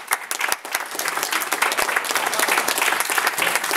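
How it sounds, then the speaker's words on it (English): An audience at a real estate investors' meeting in New York City breaks into applause, a dense wash of many hands clapping that stays steady and fairly loud for the whole stretch, without voices on top. "I want to give them a round of applause"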